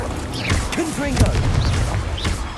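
Confringo fire explosion spell cast in combat in Hogwarts Legacy, a burst of booming blasts and crashes mixed with whooshing effects. Character voices and shouts sound over the action.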